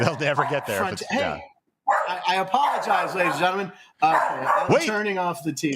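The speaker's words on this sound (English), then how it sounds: "anytime there's an animal on the TV, he will bark at it." A dog indoors barks at an animal on a television, with loud yapping barks mixed under and between steady talk from a man.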